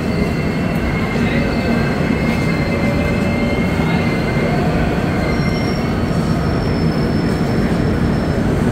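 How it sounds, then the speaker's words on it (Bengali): Howrah SF Express pulling out of Kharagpur Junction from platform 7, a steady dense rumble of rolling wagons with faint high wheel squeals drifting through, heard close and continuous. "ছেড়েছে ট্রেনটা"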